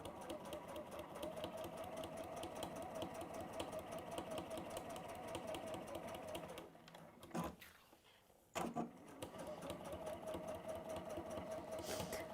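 A sewing machine topstitching an envelope pouch, running at a steady fast mechanical whir with a rapid needle chatter. It stops briefly twice, once for a pivot at a corner, then resumes stitching with no speech.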